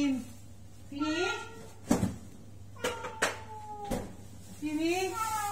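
A pet cat named Timy meows several times, short rising calls spaced apart, with a few sharp knocks in between and a person speaking nearby.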